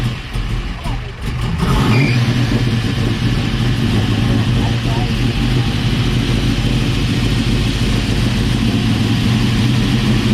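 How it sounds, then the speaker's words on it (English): A hot rod's engine rumbles loudly and steadily at a rod and custom car show at Heartland Speedway, a deep continuous idle with slight surges close to the microphone. "That engine is rumbling, son."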